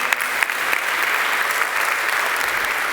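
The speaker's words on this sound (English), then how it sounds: "Can I get a big round of applause for those partners?" A large conference audience gives a big round of applause for event partners, with a steady, dense wash of clapping that stays loud and even throughout.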